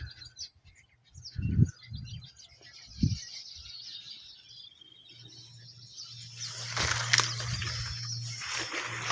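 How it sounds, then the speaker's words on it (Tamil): Sparrows perched on telegraph poles chirp in a busy, high chattering chorus that grows denser and louder toward the end, with a few low thumps and a steady low hum underneath. "இந்த தந்தி கம்பத்தெல்லாம் இப்படி உட்காந்துட்டு பாருங்க குருவி."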